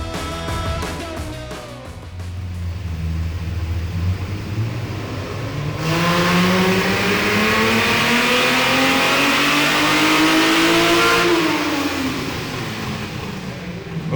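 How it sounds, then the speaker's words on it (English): A Hemi-powered Chrysler Centura with a naturally aspirated six-cylinder engine revs hard at the Summernats 35 horsepower event, climbing in a long loud sweep, holding near the limit, then dropping back off. "Top qualifier for naturally aspirated 6 was Tony with his Hemi-powered Chrysler Centura"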